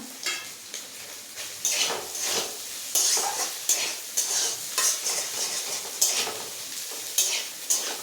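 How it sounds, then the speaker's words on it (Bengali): Chopped onion and green chili fry in a pan as the base for egg chowmein, giving a steady close sizzle broken by repeated sharp scrapes and clinks of a spatula stirring against the pan, with no one talking. "একটু ভালো করে ভেজে নেব।"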